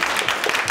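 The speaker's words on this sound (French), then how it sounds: "Merci, on vous applaudit." A short burst of dense applause from a crowd, many hands clapping at once.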